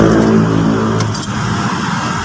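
Keys jangle as they are turned in the ignition of an automatic-transmission car being tested for a faulty inhibitor (neutral safety) switch, a close, loud metallic rattle with a low hum beneath and no talk.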